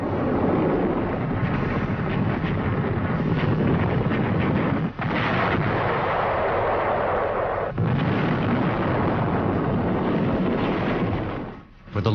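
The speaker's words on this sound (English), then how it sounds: "The Germans unleashed heavy artillery fired from a distance." Heavy German wartime artillery fired from a distance, a dense continuous roar of rumbling blasts and booms filling the whole stretch, loud and muffled like an old archival recording.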